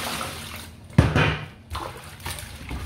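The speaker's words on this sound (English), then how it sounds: "So now I can add water to my snails." Water poured over snails in a bowl while washing them for cooking, a close, splashing rush of liquid with a stronger surge partway through, continuing unevenly with no voices.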